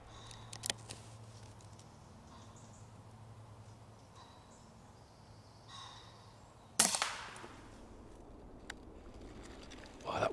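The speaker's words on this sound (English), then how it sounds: "I just about managed to thread a shot through" A single sharp air rifle shot, an Air Arms S510 Carbine Super-lite, fired at a pigeon during a winter hunt, rings out close and loud midway through over quiet outdoor ambience, with a faint crack near the end.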